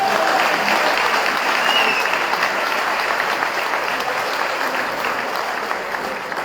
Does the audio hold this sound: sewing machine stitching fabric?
no